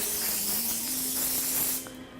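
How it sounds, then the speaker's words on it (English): A continuous aerosol spray of olive oil cooking spray onto a pizza pan hisses steadily for about two seconds, close and fairly loud, with a faint hum underneath, then cuts off abruptly. "cook and spray with the olive oil one."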